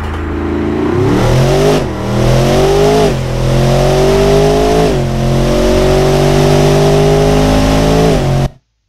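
A fast, heavy SUV engine revs hard and accelerates close by, its note climbing steadily and dropping briefly at each of several gear changes before cutting off abruptly at the end, loud and with no talking.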